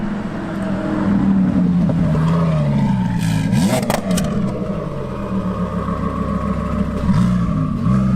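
A twin-turbo Lamborghini engine roars loudly and close, revving and accelerating hard with rising and falling pitch sweeps as it pulls through the gears, continuous and dominant throughout.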